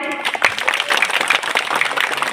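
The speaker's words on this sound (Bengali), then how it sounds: "আমরা সবাই একটু আস্তে করে করতালি দিই সবাই" Audience at a meeting reopening a revived rural health centre claps together, a dense close burst of applause that carries on steadily for a couple of seconds.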